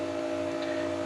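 Power washer droning steadily in the background at a garage where a MK7 TDI is having its oil changed, a constant even hum and hiss with no pauses and no voices.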